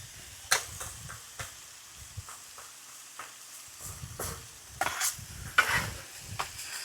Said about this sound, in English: I'm just trying to dry this here out.